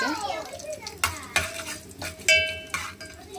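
Tomato, onion and green chilli frying in a pan, a low sizzle broken by several sharp clinks and scrapes of a metal spoon against the pan, with brief quiet speech.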